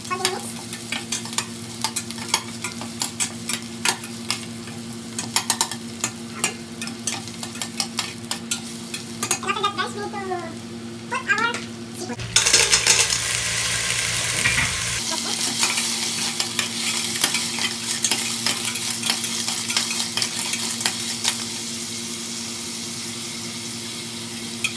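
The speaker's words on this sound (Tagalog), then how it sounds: "So just mix our garlic and onion." Garlic and onion frying in a pan for Filipino-style seafood with tomato ketchup, with a spoon scraping and stirring through a steady sizzle and a louder burst of frying partway through.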